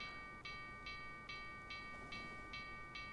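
A long train rolls past in the Factorio video game with a bonging signal. Faint, evenly spaced pulses repeat about every 0.4 seconds over steady tones and a low rumbling bed, with no talking.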